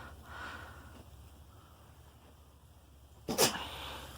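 A goat in labour during kidding gives a single short, sharp sneeze near the end, after several seconds of quiet, faint background breathing and rustle.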